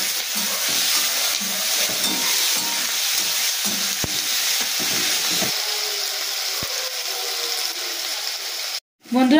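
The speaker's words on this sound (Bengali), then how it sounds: "এবার কুচিয়ে রাখা পেঁয়াজগুলো আমি তেলের মধ্যে দিয়ে দিচ্ছি।" Chopped onions frying in hot oil while cooking potatoes and onions, a steady, fairly loud sizzle and hiss with occasional stirring clatter, continuing for several seconds before a brief drop-out near the end.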